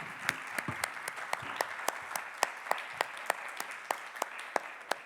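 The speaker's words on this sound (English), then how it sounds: "I will invite you to give a warm round of applause for our" An audience at a forum in Rio de Janeiro claps for a panel, steady applause with sharp individual claps, moderately near and sustained throughout, with no talk over it.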